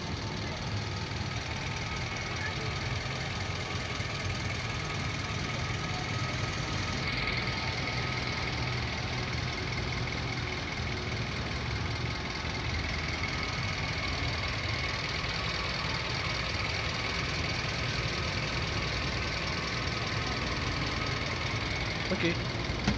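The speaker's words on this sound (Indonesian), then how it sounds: "Teman-teman bisa dengar suara irama mesinnya masih standar bawaan" A manual 2018 Toyota Rush TRD with a stock, original engine idles steadily and fairly close, a continuous low rumble with a faint rhythmic knock, running unbroken throughout with no other sounds standing out.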